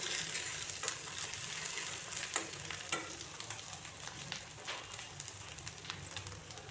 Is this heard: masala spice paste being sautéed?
yes